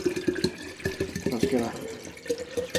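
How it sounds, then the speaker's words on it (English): Distilled water pours into an old jar, filling it nearly to the top, with a short, close trickle and drips under a person talking. "fill it all the way up to the top almost"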